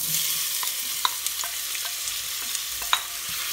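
Onion sizzles steadily in hot butter and oil in a casserole pot, with occasional light clicks and scrapes of stirring over the continuous frying hiss.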